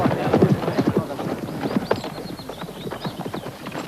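Several horses clip-clop in a brisk, uneven patter of hoofbeats at a comedic Robin Hood–style period setting, close and moderately loud, with a faint whinny mixed in.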